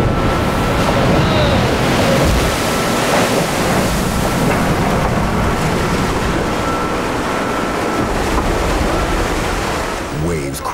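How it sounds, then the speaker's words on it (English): Heavy waves crash and churn over the stern of a fishing boat in the icy Antarctic sea, a loud continuous roar of surf and rushing water with wind buffeting throughout. "Waves crashing over the stern can easily sweep a crew member into the icy, churning sea"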